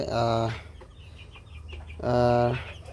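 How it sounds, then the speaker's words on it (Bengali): Desi chickens on a farm cluck and call in two loud, drawn-out bursts close by, separated by a quieter stretch of soft clucks and background noise. "এইখানে আমার হচ্ছে দেশি যে মুরগ মুরগিগুলো আছে ওইগুলা এখানে প্রায় সত্তর পিসের মতো আছে"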